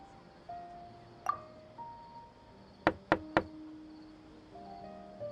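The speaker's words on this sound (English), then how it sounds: "Let's try knocking." Three quick, sharp knocks land on a door in the video game Genshin Impact, close and evenly spaced, over a faint ambient hum with a few soft chimes before them.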